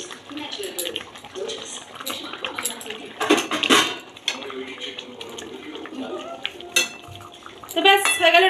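A spoon scrapes and clinks against a pan while stirring a potato and egg curry seasoned with garam masala, in irregular close-up clatters that peak in a louder burst midway and again at the end, with a voice faintly present.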